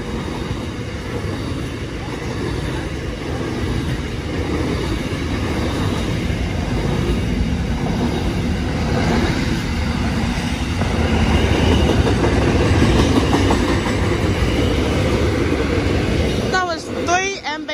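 Freight container train hauled by MB class locomotives rolling past at Menangle Park, a loud sustained rumble of wagons with clattering wheels and squeals toward the end, with voices talking over it.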